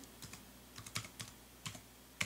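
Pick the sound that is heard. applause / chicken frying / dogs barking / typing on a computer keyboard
typing on a computer keyboard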